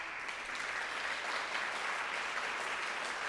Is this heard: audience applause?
yes